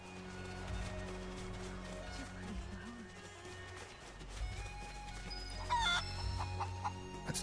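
Chickens cluck in Final Fantasy VII over game music and ambient sound, with short clucking bursts and a few brighter squawks toward the end.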